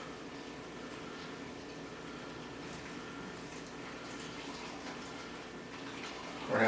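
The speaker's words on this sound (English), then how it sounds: "I want to get my water on so I can start steeping while it's still hot." Tap water runs steadily into a saucepan for making sweet tea, a continuous soft splashing rush that holds even for several seconds and swells slightly louder at the end, with no voices.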